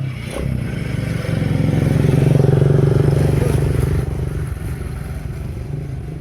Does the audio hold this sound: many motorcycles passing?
yes